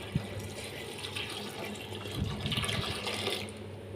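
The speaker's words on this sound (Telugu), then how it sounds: "తగినన్ని వాటర్ పోసుకోవాలి." Water runs and splashes into a pot of lentils at a moderate level, a continuous gurgling pour with small clinks, no voices.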